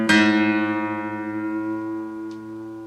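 A single guitar strum rings out, two strings sounding together and slowly decaying, with a faint click near the end.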